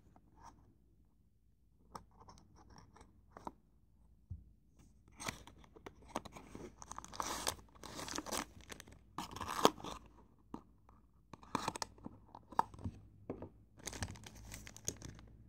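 Packaging of a Tomica Jeep Wrangler toy car being opened, with soft crinkling, tearing and crunching of cardboard and plastic in irregular bursts, faint at first and then busier and louder close by, no talking.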